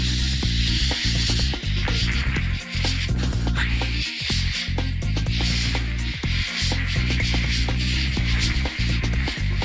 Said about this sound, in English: He sounds like Static.